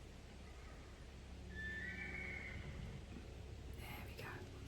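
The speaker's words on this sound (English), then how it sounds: "The horse is outside" A horse outdoors lets out a single drawn-out whinny, faint and distant, heard through a quiet indoor room with a soft rustle near the end.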